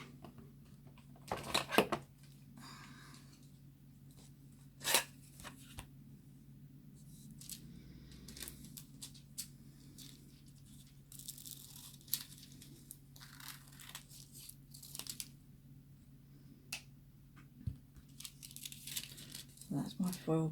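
Aluminium foil is cut with scissors and handled, making scattered crinkles, snips and short rustling bursts spread across a quiet stretch while someone talks.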